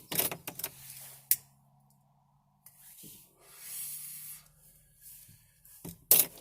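A lighter sparks in short scratchy bursts, a few quick flint strikes separated by near silence, close and fairly faint.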